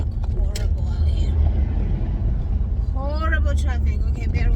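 Deep, continuous road rumble fills the cabin of a moving car in heavy traffic, while someone speaks briefly over it.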